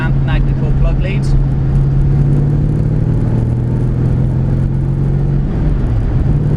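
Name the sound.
tuned RPi 4.6 Rover V8 engine in Ford Capri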